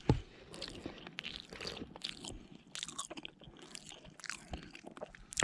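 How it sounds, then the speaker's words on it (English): Close, soft chewing and crunching of a steak eaten outdoors in the Rocky Mountain backcountry, in steady, quiet bites with small wet mouth sounds and no talking. "Oh, nothing like a good steak and an incredible view."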